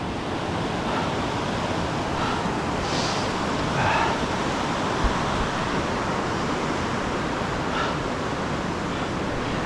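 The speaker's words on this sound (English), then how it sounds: "This is the Dartmouth Rapids." River rapids at Dartmouth Rapids in Ohiopyle, a constant broad rushing roar of whitewater, close and steady throughout with a little wind buffeting.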